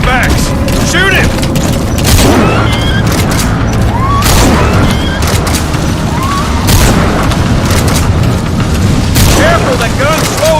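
Gunfire and explosions in Metal Gear Solid V: The Phantom Pain, with dense booming blasts and rapid shots layered continuously over a loud battle mix, with voices talking over the action.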